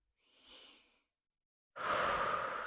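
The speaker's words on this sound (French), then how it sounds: "J'inspire avec le nez." A soft nasal inhale during a yoga breathing exercise in downward-facing dog, a quiet airy draw of breath, followed after a short silence by a louder, fuller rush of breath.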